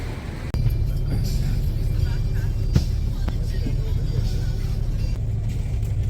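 Bus driving through Buenos Aires toward the airport before dawn, a steady low engine rumble and road roar from inside the cabin, with a few brief clicks and knocks along the way.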